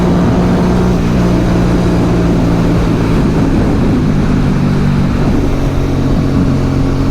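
Aprilia Dorsoduro 750 motorcycle engine pulling hard through short-shifted gears, a loud continuous drone with steady harmonic tones rising and resetting across the shifts, heavy wind noise throughout.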